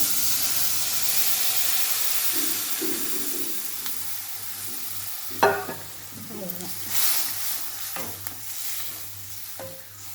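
A pot of Tamil vathal kuzhambu made with sundakkai and manathakkali vathal simmers with a soft bubbling hiss, broken by a few stirring scrapes and light clinks.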